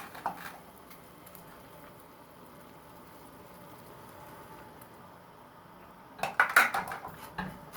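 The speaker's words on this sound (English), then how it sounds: "you're going to dissolve the sugar in the water" A spoon clinks and scrapes against a pot while sugar is stirred into water, a few quick metallic knocks near the end after a long, quiet stretch of low room noise.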